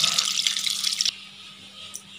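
Tamarind water pours into a cooking pot for a South Indian rice dish, a bright, steady splashing stream that stops abruptly after about a second, followed by a faint drip.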